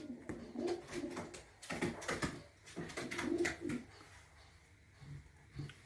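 Pigeons coo nearby in repeated throaty, rolling calls, several birds overlapping with soft fluttering and rustles between phrases.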